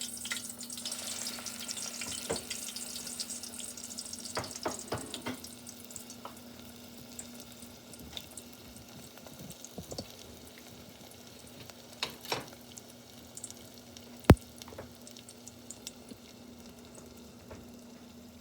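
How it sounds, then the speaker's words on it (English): Pieces of pastry, puff pastry or biscuit dough frying in a pan of oil, giving a soft, steady sizzle with occasional pops and clinks, fairly quiet and close, with no talking. "So, into the oil they go."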